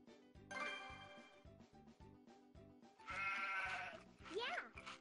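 A cartoon sheep bleats twice in wavering, drawn-out cries over a bouncy musical backing, fairly close and clear.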